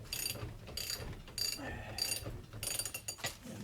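A spring compressor is ratcheted down on a 2002 Chevy Malibu front strut's coil springs, giving bursts of quick metallic ratchet clicks in an irregular rhythm, close and fairly quiet.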